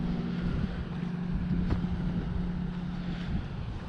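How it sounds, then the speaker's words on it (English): Steady wind buffets the microphone at an open free camping spot in Montana, a continuous rushing roar with no speech, alongside a low steady hum throughout. "It's a little windy"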